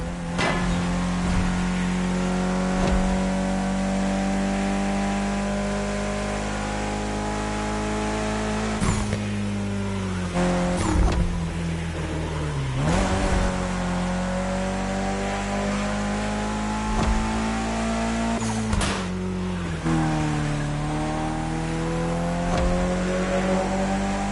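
A Mitsubishi Evo X engine roars through racing laps in the video game The Crew Motorfest, holding loud sustained revs with repeated gear shifts and brief dips as it accelerates.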